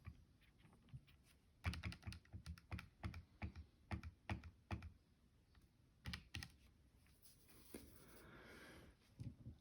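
Typing on a computer keyboard during an algebra lesson, a fast run of close, clear key clicks in uneven bursts, faint and without talk.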